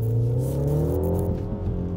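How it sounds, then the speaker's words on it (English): A BMW B48 four-cylinder engine pulls steadily under load while driving through narrow European streets, its tone rising smoothly and holding loud and close throughout, with no voices. "It's such a good engine, this B48, and way better than before."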